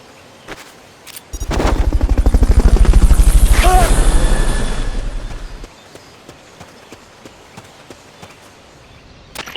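A Fulton recovery helicopter in Metal Gear Solid Peace Walker swells in with a loud, rapid rotor chop that peaks, fades out after a few seconds, and leaves quiet scattered clicks and game sounds.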